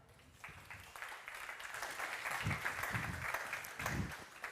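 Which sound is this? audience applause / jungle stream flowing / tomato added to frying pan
audience applause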